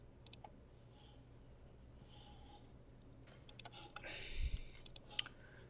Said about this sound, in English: so click save here